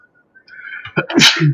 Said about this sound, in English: I really felt like I was going to sneeze then